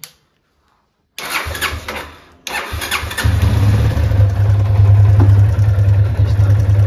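A Yamaha FZ250 motorcycle engine cranks and catches after a clutch plate replacement, stumbling briefly, then settling into a loud, steady idle with a low throbbing exhaust note and a slight mechanical ticking.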